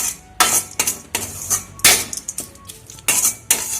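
A spoon scrapes and knocks against a pan while curry leaf thuvayal is stirred, a string of irregular metallic clinks and scrapes, close and fairly loud, with no talking.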